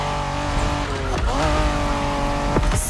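A Honda NSX races in The Crew Motorfest, its engine note holding steady with rising and falling pitch sweeps as it shifts, plus a brief tire squeal near the end, loud and close with no talk.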